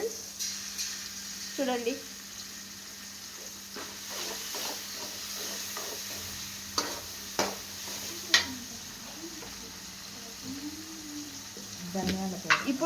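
Ginger paste frying in a pan, with a light, steady sizzle and hiss, occasional stirring scrapes and clinks of a utensil, while someone talks over it throughout.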